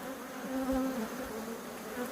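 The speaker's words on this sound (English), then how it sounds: "a bee has gotten under my tool. It's just buzzing away." A single honey bee trapped beneath a metal hive tool buzzes continuously, a low close vibrating drone that holds steady and alone for a couple of seconds.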